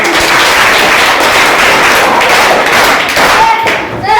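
Schoolchildren in a classroom debate clapping, a dense, loud patter of many hands that continues steadily with thumps mixed in and voices underneath.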